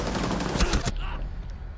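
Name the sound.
gunshots in video game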